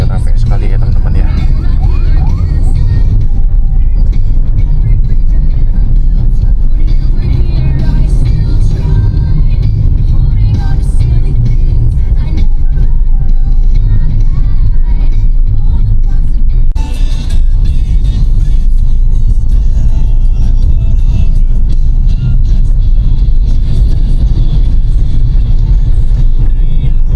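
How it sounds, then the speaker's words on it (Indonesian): Busy road traffic in Cariu, Indonesia, heard from a moving vehicle: a loud, continuous engine and road rumble with passing cars mixed in, while someone talks over it for much of the time. "jalanan kayak gini trafficnya banyak sekali"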